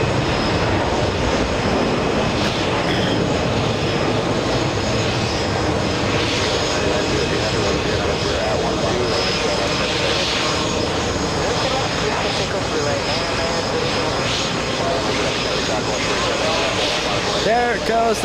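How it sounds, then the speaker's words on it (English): An American Airlines heavy jet, bound for Delhi, takes off from JFK with a steady, loud engine roar that fills the whole stretch, voices talking over it. "American Airlines taking off. It's another heavy."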